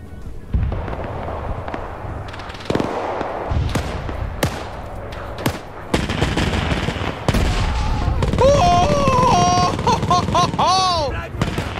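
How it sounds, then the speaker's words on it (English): Heavy rocket artillery barrage in a WW2 combat game, a dense run of sharp blasts and rolling booms through the whole stretch, loud and close, with voices and whistling tones layered in later. "heavy rocket artillery"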